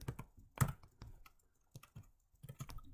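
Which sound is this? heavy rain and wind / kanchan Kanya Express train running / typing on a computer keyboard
typing on a computer keyboard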